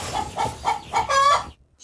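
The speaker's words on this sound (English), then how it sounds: "the little hen is sitting here" A hen in a countryside coop gives a run of repeated clucks in quick rhythm, close and fairly loud, ending in a longer drawn call before a short pause.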